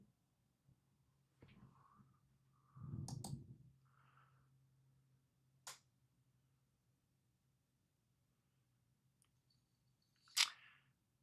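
A computer mouse clicks a handful of times while stock charts are browsed during a live trading stream: sparse, isolated sharp clicks spaced seconds apart, faint and close in a quiet room.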